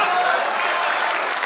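Audience applause at a Hindi poetry recital (kavi sammelan) at the Taj Mahotsav in Agra, a dense, loud, sustained clapping from a large crowd that continues evenly throughout.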